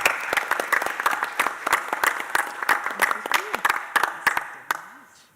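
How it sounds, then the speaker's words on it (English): Audience applause honoring the GAR Foundation at a city schools board of education meeting, with sharp individual claps rising to a dense burst and then thinning out, while faint voices murmur underneath. "Please join me in another round of applause"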